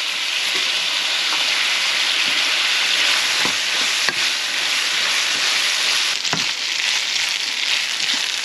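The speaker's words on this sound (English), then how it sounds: "After sauteing the onion and the beef, pork and chorizo, this is about 10 minutes." Onion sautéing in a pan with beef, pork, chorizo and spices makes a loud, constant close sizzle, broken by occasional scraping clicks from stirring, with no voices.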